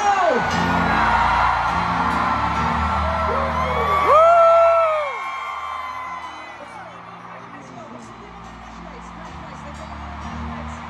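A packed concert crowd at a concert kickoff in Philippine Arena yells and whoops back in a loud, sustained roar that swells, then fades into scattered distant shouts.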